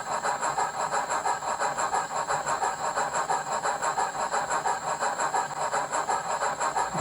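A Hornby W1 Hush-Hush 10000 model steam locomotive with a working steam generator runs alone, giving a steady, fairly loud rhythmic chuffing and mechanical hum with a continuous high whine throughout.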